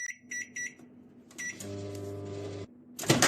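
Keypad beeps are followed by a microwave oven starting with a low steady hum for about a second, then it stops and a clatter follows; the door was closed before a two-minute timer was set.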